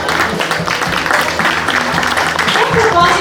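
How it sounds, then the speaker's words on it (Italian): Applause from the audience at a beauty pageant, a loud, dense crowd clapping mixed with voices, steady across the whole stretch. "Un applauso!"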